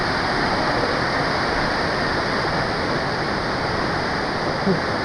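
Swollen after rain, the water at Hebbe Falls, Chikmagalur, pours down in a dense, continuous roar, loud and close throughout with no voices.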